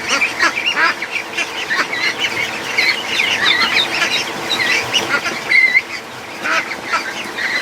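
Muscovy ducks and ducklings in a pen, a busy overlapping chorus of quacks, peeps and honks from several birds nearby, continuous and fairly loud with no talking.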